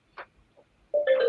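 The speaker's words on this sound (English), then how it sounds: "my phone's ringing" A phone starts ringing during a live online tabletop game battle. A couple of faint soft clicks come first, then a sudden, fairly loud electronic ring tone fills the last half second.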